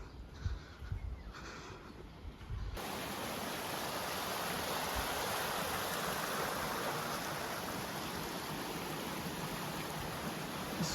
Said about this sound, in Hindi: ये बिल्कुल साफ़ ठंडा बहता हुआ पानी इस इलाके में हम पहुंचता है